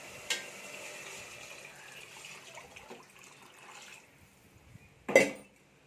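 Quiet kitchen background with a faint trickle of water, followed by a short, sharp splash near the end as water is poured into a cooking pot of prawn biryani.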